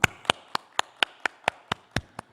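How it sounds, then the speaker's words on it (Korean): Church congregation clapping together during a Sunday worship festival service, about ten sharp, evenly spaced claps in a steady rhythm, close and fairly loud with no talking over them. "우리 하나님께 영광의 박수 올려드리겠습니다."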